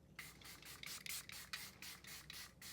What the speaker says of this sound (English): let's do the setting spray like she did